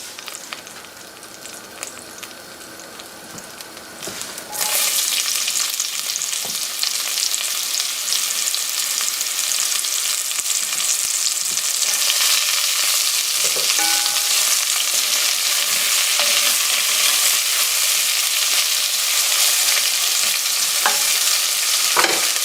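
A whole Vidalia onion frying in grapeseed oil, a loud, steady broadband sizzle that bursts in after a few quiet seconds and holds close and continuous, with occasional stirring scrapes and no talk.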